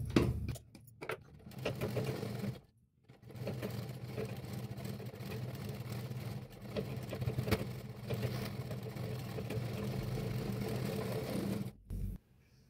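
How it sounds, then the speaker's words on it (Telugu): Sewing machine running in long steady stretches as folded cloth is stitched onto canvas, with a few brief pauses and clicks, close but quiet. "మనం కట్ చేసుకునే క్లాత్ని క్యాన్వాస్ పైకి ఈ విధంగా మడిచి స్టిచ్ చేసుకోవాలి."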